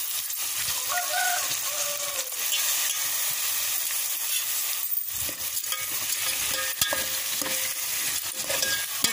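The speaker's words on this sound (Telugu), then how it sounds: "ఒక్క 2 నిమిషాలు ఫ్రై చేసుకొని వాటర్ పోసుకున్నాం" Rice and moong dal frying and being stirred in a pan, a steady sizzle with scraping and clinks of a utensil against the pan, close by and continuous without talk.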